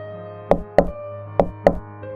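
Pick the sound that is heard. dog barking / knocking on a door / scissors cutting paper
knocking on a door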